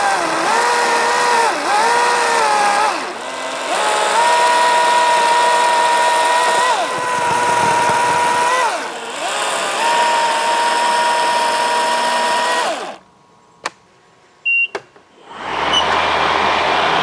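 A chainsaw cuts down trees in a yard between mowing jobs, its engine droning loudly and steadily near the mic with brief dips in pitch as it bites, then cutting out into near silence before restarting.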